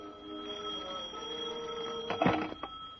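A telephone rings in a radio drama, heard as a short burst of bell ringing with a couple of faint trailing rings over a quiet, hissy background tone.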